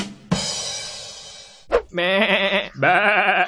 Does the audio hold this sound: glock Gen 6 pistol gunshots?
no